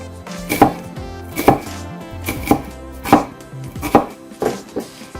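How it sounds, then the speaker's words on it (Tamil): Knife slicing onions on a chopping board for a chicken pepper fry, six crisp thuds at a steady unhurried pace, close and clear with no talk. "மிளகு பிரட்டலுக்கு தேவையான வெங்காயத்தை வெட்டுவோம். இதை இப்படி ஸ்லைஸாக வெட்டுவோம்."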